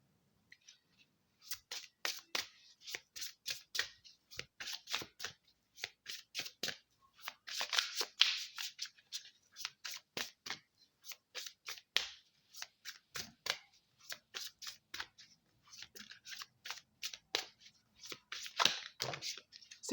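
Oracle cards are shuffled and drawn in a quiet room, giving a long run of quick, crisp flicks and riffles in uneven bursts, close up and fairly faint, with no talk.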